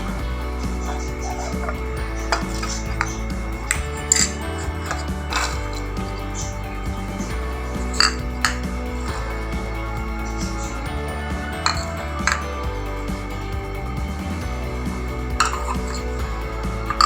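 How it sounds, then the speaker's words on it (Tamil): Vegetable salad ingredients with lemon juice, green chilli and pepper powder being tossed in a bowl, giving repeated light clinks and scrapes of a utensil against the bowl, close and steady over a low background hum. "இப்போ எப்படி மிக்ஸ் பண்ணுறதை நம்ம பார்க்கலாம்"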